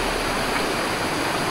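A waterfall on a river trek in Boac, Marinduque, gives off a constant, dense rushing hiss with no break or variation.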